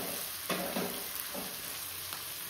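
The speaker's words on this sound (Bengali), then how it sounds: "আর এই যে পেঁয়াজটা ভাজা হচ্ছে।" Onions fry in hot oil in a kadai, a wok-style pan. A steady close sizzle runs throughout, broken by several sharp scraping bursts as the pan is stirred, with no voices.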